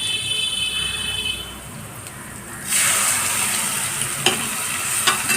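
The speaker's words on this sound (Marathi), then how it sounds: "आणि हे पिठल्याचं मिश्रण याच्यात टाकते." A gram flour pithla mixture is poured into a hot tempering with asafoetida and turmeric, starting quiet and then bursting into loud, steady sizzling with a few clinks of a utensil against the pan.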